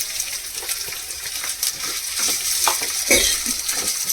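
Potatoes added to a hot pan with curry leaves: steady sizzling frying with scraping stirs and light clinks, growing busier toward the end.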